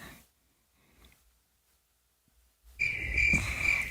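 After near silence, a high, steady cricket chirp starts up abruptly and continues to the end, fairly loud.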